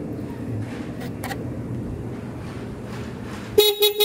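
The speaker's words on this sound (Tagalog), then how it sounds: "ito po yung pinalit natin, yung Hella Classic horn set" A steady low engine drone from a Yamaha R15 V2 motorcycle runs for several seconds, then a loud, bright aftermarket Hella Classic horn set blares in short repeated honks at the end.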